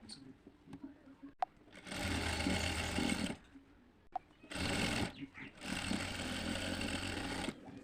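An electric sewing machine stitching the neckline of a suit, running in three steady whirring bursts of a few seconds each, close and fairly quiet, separated by pauses with light handling clicks.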